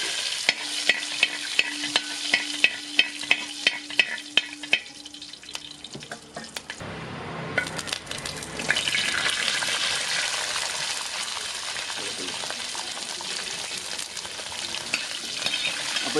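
Whole onions hit hot oil with dried red chillies and curry leaves for Kerala sadya sambar, a sharp burst of sizzling after some clinking stirring, then a loud steady frying hiss continuing close up.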